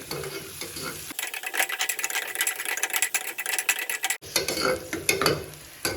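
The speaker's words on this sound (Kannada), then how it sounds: "ಈರುಳ್ಳಿ ಚೆನ್ನಾಗಿ ಫ್ರೈ ಆಗಿದೆ ಎಣ್ಣೆಯಲ್ಲಿ." Onions frying in oil in a pan until brown, a dense crackling sizzle that starts after a quiet first second, runs steadily with busy stirring clatter, breaks off briefly near the end and resumes.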